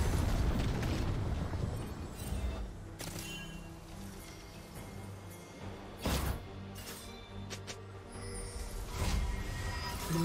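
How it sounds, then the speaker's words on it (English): In League of Legends, a turret is destroyed amid a battle. Several booming explosion bursts stand out over the busy game sounds, one sharp blast in the middle and another near the end. "Blue team's turret has been destroyed."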